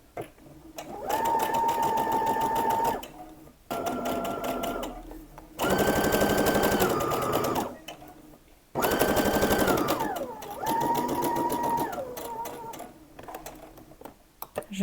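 A sewing machine stitches a removable fabric collar in several bursts of rapid, steady whirring, each lasting one to three seconds with short pauses between, recorded up close and fairly quiet.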